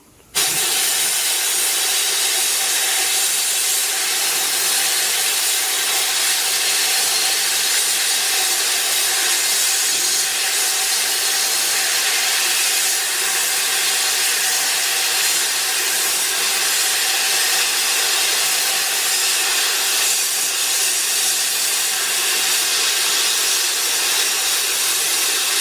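A steady, loud, broad hissing roar of a suction-fed sandblaster blasting Black Beauty abrasive continues without pause, close by and unchanging throughout.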